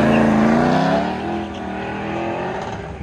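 A Ford Mustang on an autocross run at a car show: a loud engine note close by, holding a strong tone and then easing off as the car moves away, with tire noise beneath and no voices.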